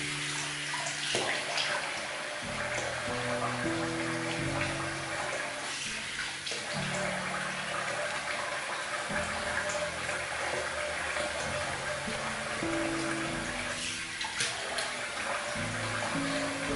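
Tap water runs steadily into a basin to rinse off shaving soap, a constant splashing flow heard close and alone for the whole stretch.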